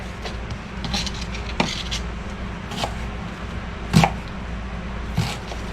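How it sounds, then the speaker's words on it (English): Knife mincing a quarter onion on a cutting board, scattered sharp chopping taps at an uneven pace over a low steady background hum. "we're going to add about 1/4 of an onion. I'm also going to mince this up."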